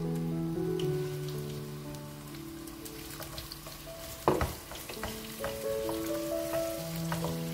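Onions fry in about a cup of hot oil in a pan, a constant crackling sizzle close up, with one sharp clatter of a utensil midway and softer stirring sounds after, no talking.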